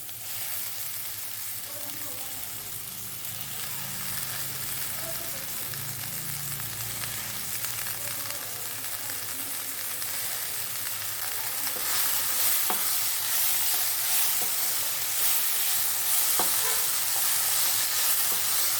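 Tomato and drumstick leaves sauté in a pan, a steady broadband sizzle running throughout with scraping stirs and a few sharp utensil clicks near the end, close and moderately loud with no talking.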